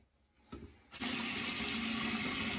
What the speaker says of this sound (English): I'm just going to do a final rinse.